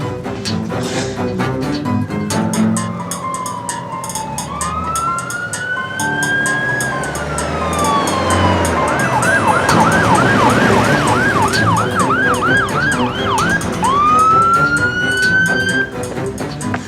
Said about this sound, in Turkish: koş ambulansına koş